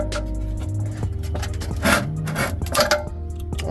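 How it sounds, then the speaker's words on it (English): A loose blower wheel in a Goodman heat pump scrapes and rubs in rough, uneven bursts over a low mechanical hum, close and moderately loud. "All that scraping right there"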